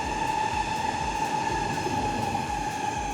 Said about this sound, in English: So you can hear the trains up above us.